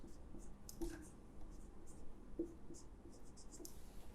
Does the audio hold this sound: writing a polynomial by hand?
yes